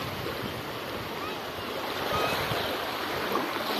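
Large waves breaking on the sea along a highway coast, a continuous broad surf roar with wind buffeting the microphone, steady and loud, swelling slightly in the second half.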